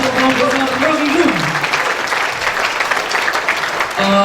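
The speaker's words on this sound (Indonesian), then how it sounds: "tepuk tangannya untuk Profesor Rocky Gerung" Audience applauding at a university public discussion in Ponorogo, Indonesia: dense, steady clapping filling the room from start to finish, with a voice briefly audible at the beginning.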